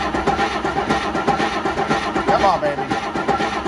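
A Rolls-Royce engine cranks and runs with a steady, rough mechanical churn all the way through. Someone speaks over it and coaxes it along.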